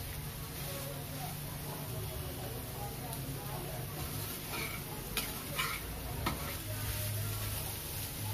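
Potato and chickpea curry cooking in a pan, giving a continuous soft sizzle with occasional stirring clinks and scrapes under a steady background hum.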